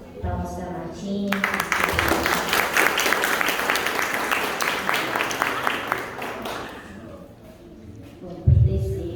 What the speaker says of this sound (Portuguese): Palmas para Martim.